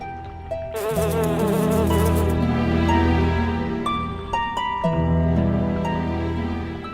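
A swarm of honeybees buzzing loudly in a dramatized mythological scene, a dense continuous drone mixed with tonal music, no speech.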